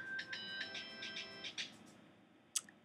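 A phone texting tone from across the room plays as a string of faint, repeated electronic chimes over about a second and a half. Quiet follows, then one short sharp click.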